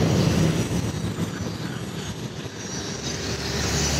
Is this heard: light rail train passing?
yes